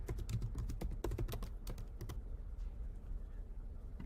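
Quick, irregular keystrokes clatter on a computer keyboard, dense for the first two seconds and then thinning into lighter, sparse taps, close and clear over a low room hum.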